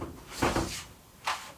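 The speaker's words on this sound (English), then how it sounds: "I closed off the underside of my drill press bench, and just created these simple sliding doors," Simple sliding doors under a drill press bench in a workshop give two short rolling, knocking slides, the first longer and the second brief, close and fairly quiet with no talk.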